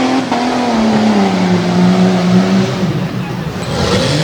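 Off-road racing truck at a Tuff Truck Championship dirt track in Harrisburg, PA, its engine droning and revving, pitch sliding down then climbing, loud and close, with a commentator talking over it.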